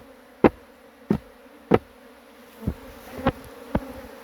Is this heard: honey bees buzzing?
yes